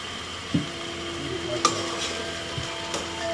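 Garlic sauce hitting a stir fry in a pan on a grill, a soft continuous sizzle broken by a few sharp clinks and knocks of a utensil against the pan.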